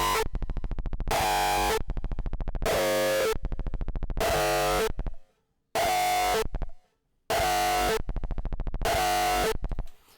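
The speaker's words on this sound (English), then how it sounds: "We're just gonna take our peak and we're just gonna listen to where it's boosting the right frequency for our punch." A hardstyle 909 punch kick repeats about every second, loud and heavily distorted. A peaking EQ boost sweeps across it, shifting its tonal colour from hit to hit, with short gaps between some groups of hits.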